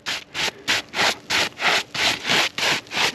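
A soft-gloved hand rubbing across asphalt roof shingles in nine steady back-and-forth strokes, each a close, coarse gritty swish with brief gaps between.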